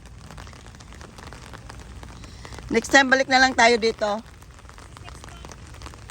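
Steady rain patters in the background outdoors, a soft continuous hiss while a person talks briefly over it.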